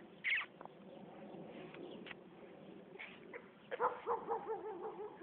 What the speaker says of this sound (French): il y a notre chien qui aboie